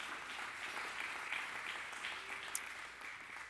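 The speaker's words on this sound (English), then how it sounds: "You can applaud for that." Distant, faint audience applause at a high school commencement ceremony, a soft steady patter of clapping lasting a few seconds.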